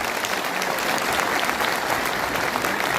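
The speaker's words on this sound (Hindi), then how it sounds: "जोरदार तालियों से उनका सम्मान करें" An audience applauds loudly and steadily at a welfare association's birth anniversary celebration for Dr. B.R. Ambedkar. The clapping is dense and continuous throughout, with no pause.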